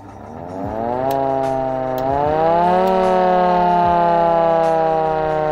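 A loud homemade rotary air raid siren winds up, its howling pitch climbing in stages as the rotor speeds up, with a rumbling motor underneath.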